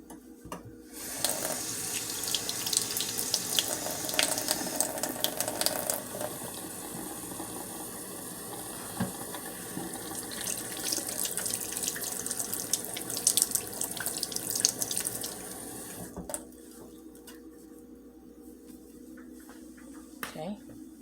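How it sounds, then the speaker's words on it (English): Hands being washed under a running kitchen sink faucet, a steady loud stream of water splashing for most of the stretch, then cutting off near the end; a voice speaks briefly over it. "Let me wash my hand"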